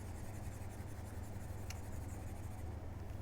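Rubbing out writing on a classroom board during a geometry lesson: a steady, continuous scrubbing friction sound at even level throughout, no speech.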